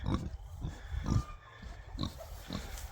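Pigs grunt and snuffle repeatedly at close range, a steady series of low rough grunts.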